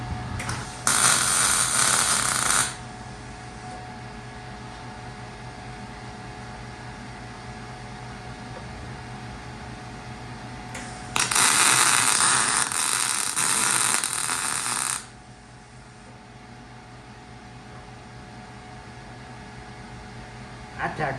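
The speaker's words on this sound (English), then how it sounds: "And then we'll just weld that in right there, tack it in real quick." Two bursts of MIG tack welding on a bar fitted to the tunnel of a 1968 VW Baja Bug, each a loud crackling hiss lasting a few seconds, separated by a steady shop hum.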